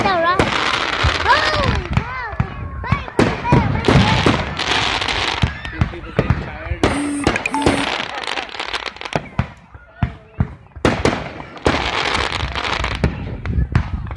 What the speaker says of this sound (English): I'm trying to capture the fireworks, but they're like doing weird little delays.